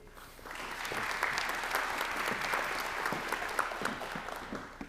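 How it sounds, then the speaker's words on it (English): A burst of clapping from a crowd at a district meeting rises quickly and holds steady, then fades out toward the end. "please, a round of applause for Mr. Wynn."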